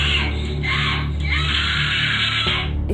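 A girl screams in rage at the top of her lungs, loud and close, a sustained harsh shriek with brief breaks for breath, in a home setting.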